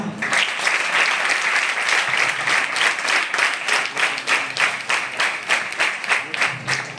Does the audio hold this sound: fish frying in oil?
no